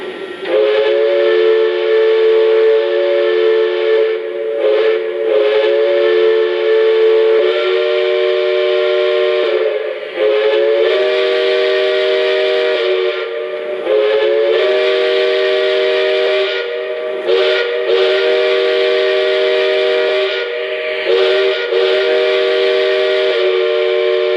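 A Lionel 2-8-0 Consolidation model steam locomotive in Southern #630 livery sounds its steam whistle in a series of loud, sustained blasts with short breaks between them, close by and with no voices.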